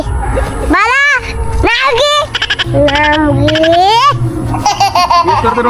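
A goat gives several loud, wavering bleats at close range in quick succession. Laughter and voices break in between the calls.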